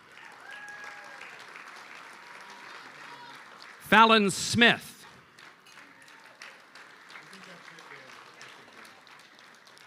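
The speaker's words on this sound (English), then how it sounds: "a round of applause, please, for the national champion, Rhode Island Sting" An audience at a hockey hall of fame induction event in Rhode Island claps in a short, loud burst of applause lasting about a second, while an announcer reads names over a quiet room before and after.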